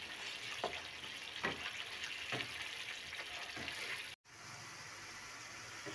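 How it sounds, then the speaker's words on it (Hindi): Masala sizzles and fries in a pan while being cooked for egg masala, a steady close crackling hiss with a few soft stirring scrapes and one brief cut. "मसाला बहुत अच्छे से भुन गया है"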